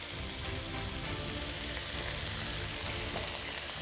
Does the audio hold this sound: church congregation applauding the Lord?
no